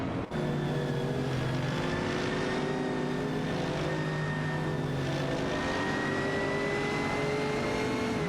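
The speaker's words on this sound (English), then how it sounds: "Captain Potato in the seat Cupra GT is currently battling it out with Androvac in the Lamborghini Gallardo GT3 for the 9th position" Racing engines of a Cupra GT and a Lamborghini Gallardo GT3 in a video game race, a continuous droning engine tone with rising and falling harmonics, steady and unbroken over several seconds, no voices.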